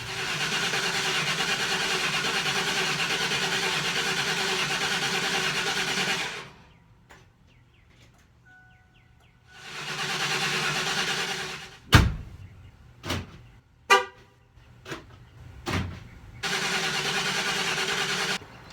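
A 1953 Ford F250 truck engine with the radiator not yet reattached is cranked in long grinding bursts that stop and start again, followed by several sharp clunks and knocks, all close by with no talking.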